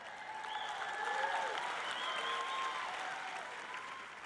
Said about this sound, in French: vous devriez crier et applaudir et vous réjouir